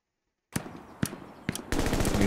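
Machine gun fire in the WWII shooter Hell Let Loose: after a brief silence, three spaced single shots ring out, then a sustained rapid automatic burst, loud and close.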